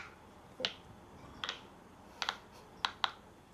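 A pop-it fidget toy is pressed several times, giving five or so short, crisp pops spaced unevenly in a quiet room.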